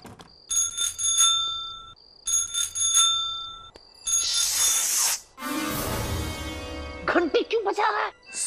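A bicycle bell rings in two bright repeated bursts, followed by hissing noise and people talking near the end.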